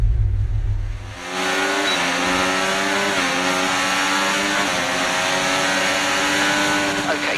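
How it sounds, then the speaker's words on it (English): Formula 1 car engines from the F1 24 video game scream at high revs, a loud continuous wail that rises and shifts through gear changes without a break. "I think the engine sounds are quite good."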